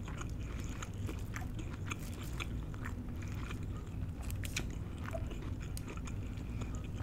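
A warm piece of pineapple upside-down cake is chewed close to the microphone, with steady soft, moist bites and crunchy mastication running throughout, quiet and intimate with no talking.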